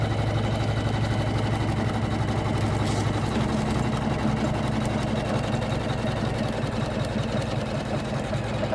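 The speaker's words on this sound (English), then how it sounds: "Well, it says embroidery, so that's what we're doing." A Janome MC500e embroidery machine stitching, giving a steady, continuous mechanical whir with a fast rhythmic needle patter at close range, running without pause and with no talking.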